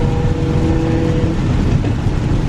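Infiniti G35 engine droning and revving on the road, a steady low rumble heard at some distance, partly buried in broad road and wind noise.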